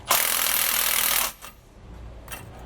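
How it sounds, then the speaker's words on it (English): A power tool drives down a U-bolt on a Roadmaster Reflex steering stabilizer of a 2020 Thor Miramar RV, giving a loud, close burst of harsh buzzing for about a second, then a couple of faint short clatters. "we can tighten down our bolts while they're in the right position"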